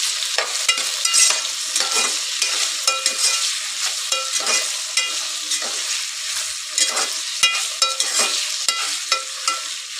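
Sliced okra frying in oil in a pan for a tangy Telugu curry, a steady bright sizzle broken by repeated scraping stirs of a spoon, close and alone without any voice.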